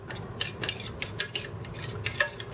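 Chipotle adobo sauce with seeds is stirred in a bowl, a quick series of light clinking taps of a utensil against the side, close and quiet with no voices.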